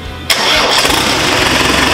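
A Land Rover Discovery engine swapped into a Land Rover Santana 1300 cranks and fires, catching abruptly and settling into a loud, steady close-up running roar.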